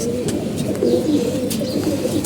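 Domestic pigeons coo in a low, continuous murmur close by, with a few faint higher chirps above, and no voices.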